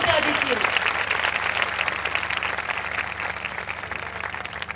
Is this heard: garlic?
no